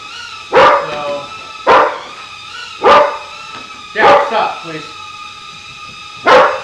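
A dog barks at a Beta FPV drone in five sharp, loud barks spaced a second or so apart, with a person's voice speaking between them.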